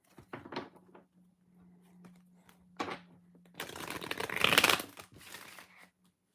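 Tarot cards being shuffled, close-up bursts of riffling and flicking card sounds, scattered at first and then a longer, louder sustained shuffle, with a faint steady hum underneath.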